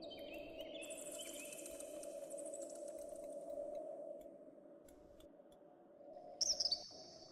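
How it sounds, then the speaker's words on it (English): A cheerful little bird sings in a sloping canyon of a cave exploration game, steady high chirping trills over a low ambient hum, with a brief brighter burst near the end. "A cheerful little bird is sitting here singing."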